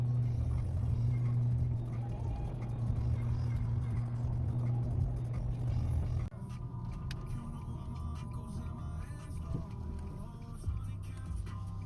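Steady low engine rumble and road noise fill the cabin of a moving car, loud and continuous, with a brief dip in level midway before the drone carries on.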